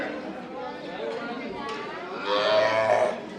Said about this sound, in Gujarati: અમુક ગાયો અંદર હોય કેમ કે એના વાછડાનું ધ્યાન રાખતી હોય ને એટલે.